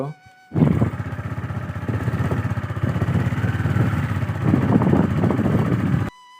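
A motorcycle rides along the paths of a river char village, its engine droning steadily and close after a brief quiet start, holding at an even pitch until it cuts off near the end.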